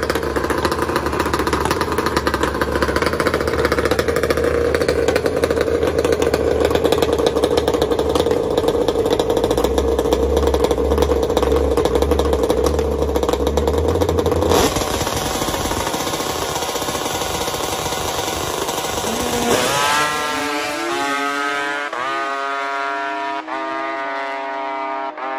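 A Kawasaki ZX14 motorcycle roars down a drag strip in a close race, its engine loud and sustained with a steady high-revving drone, then shifting and fading as it passes near the finish.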